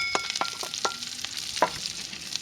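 Chopped onions hit a hot pan of rendered bacon fat and sizzle and crackle steadily up close, with a few stirring scrapes and no talking.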